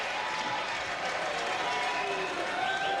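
Baseball stadium crowd in a film scene jumping and cheering, a steady wash of clapping and shouting from many people, fairly distant and continuous throughout.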